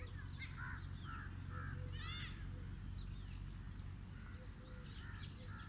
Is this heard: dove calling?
yes